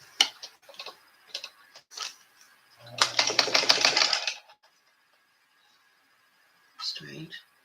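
Vintage Sanko sewing machine, a Janome 535 model with a tension fault, stitching four layers of fabric in a fast mechanical burst of about a second and a half, between sparse ticks and soft nearby voices.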